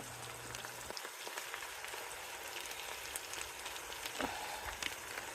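Vegetable fried rice being stirred in a frying pan, giving a steady close sizzle with soft scraping and clatter from the spatula; there is no talking.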